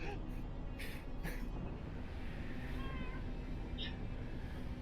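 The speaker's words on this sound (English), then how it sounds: "What, kitty? No, you can't sit in my lap right now" A pet cat meows a few times, short and fairly faint, over a low steady background rumble of game sound.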